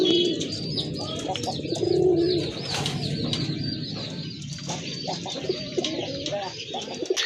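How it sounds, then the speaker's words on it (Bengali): Rani pigeons coo repeatedly at close range in low, rolling phrases, with chirps from other birds and occasional wing movement around them. "এটাও কিন্তু রানি কবুতর ডাকতে আপনারা দেখছেন খুবই একটি ফ্রেশ কবুতর"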